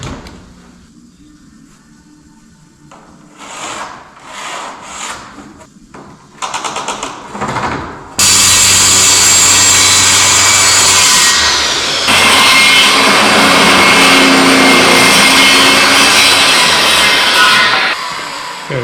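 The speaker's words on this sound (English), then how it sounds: "then we will cut the beadboard out" A saw cuts out a panel of beadboard for a cabinet door face. A few scraping and knocking strokes come first, then a loud, close continuous saw run lasts about ten seconds with a brief change partway through.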